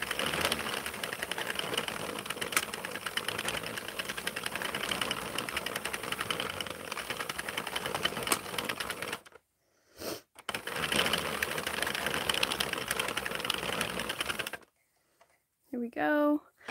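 A 32-pin circular knitting machine works yarn with a dense, rapid clicking rattle, close and steady, stopping briefly near the end before a short burst resumes, followed by a snippet of voice.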